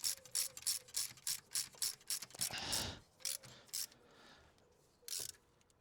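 A torque wrench ratchets on the rocker cover bolts of an MGB GT, a run of quick close clicks in bursts, then a few isolated clicks with short pauses between.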